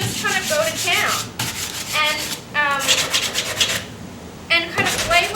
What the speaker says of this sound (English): So those are the places that you're going to focus on with your sandpaper.